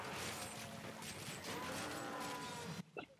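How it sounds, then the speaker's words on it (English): Cattle moo in low, drawn-out calls over a busy, noisy background in Diablo 3's cow level, then the sound cuts off abruptly near the end. "You hear the mooing?"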